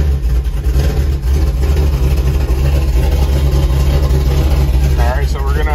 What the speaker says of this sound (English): we're gonna start the engine and let it run up until it's 158 degrees